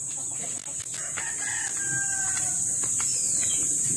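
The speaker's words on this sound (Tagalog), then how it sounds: "native chicken." Native chickens on a farm cluck and give a short crowing call at moderate distance, over a constant high-pitched hiss of background noise, with no one talking.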